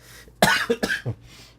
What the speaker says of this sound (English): this coughing and breathing problems are getting to be a pain